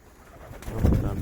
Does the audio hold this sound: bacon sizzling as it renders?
no